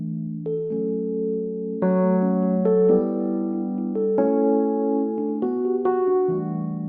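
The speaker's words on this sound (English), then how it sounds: "Very nice piano sound, sounds like crystals." A bright, glassy piano-like synth plays a sequence of sustained chords and notes, with shimmering high overtones and a steady, moderately loud level.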